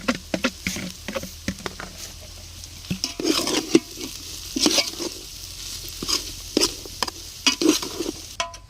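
Masala pulao being stirred in a pot, with a ladle or spoon scraping and clacking in irregular bursts against a soft background sizzle, close and fairly loud, with no talk.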